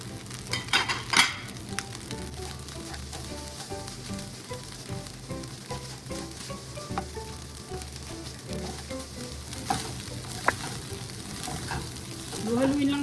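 Ground beef shawarma rice with turmeric, salt and pepper stirred in a pan, a continuous frying sizzle under repeated spoon scrapes and clinks against the pan, close-up and steady, no voices.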